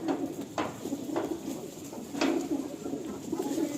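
Soft Kalanka high-flying pigeon coos repeat in low, throaty pulses, close by, with a faint steady hum underneath and no talking.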